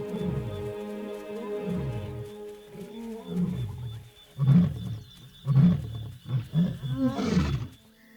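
Several deep lion roars rumble in succession across open plains, building into a series of short, forceful grunting calls near the end, with no talking.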